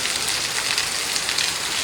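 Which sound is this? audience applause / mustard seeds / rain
rain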